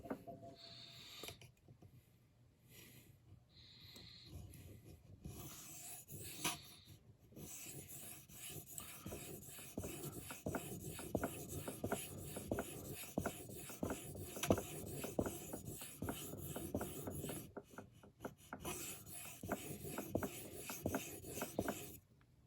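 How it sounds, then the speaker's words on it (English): A Benchmade 707BK knife blade is sharpened with repeated rasping, rubbing strokes on an abrasive surface, close and fairly quiet, running in steady back-and-forth rhythm after a few hesitant starts. "even after maybe only 50 strokes, we've removed a lot of those heavy grind marks along the main portion of the blade"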